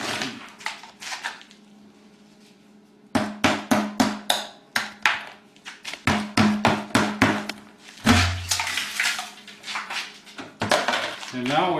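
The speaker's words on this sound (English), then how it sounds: "We'll start by popping this Home Depot bucket lid out." A Home Depot bucket lid is popped out of a concrete mold for a bio-sand filter housing, sounding as a string of close, sharp knocks and taps in quick rhythmic bursts, with hollow plastic thumps and brief pauses.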